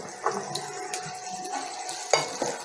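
Onion and green chili sizzle and fry in a pan while a utensil stirs and scrapes against it, with a few light metallic clinks.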